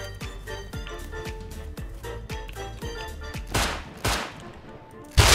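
Gunfire in a Rust PvP fight, a steady run of sharp shots about every half second, then a few louder, heavier bursts near the end, close and prominent with no talking.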